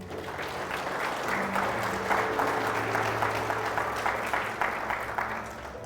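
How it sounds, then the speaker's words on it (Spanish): A church congregation applauds during a sermon, a steady dense clapping that holds at even loudness throughout with a low hum of voices underneath. "Denle un aplauso al Señor."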